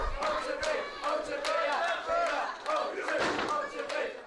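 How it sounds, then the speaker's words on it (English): A wrestling hall crowd roars and chants for their hero during a world heavyweight title match, loud, sustained rising and falling waves of cheering and shouting from many voices. "The fans in the talk are defiantly continuing to cheer on their hero"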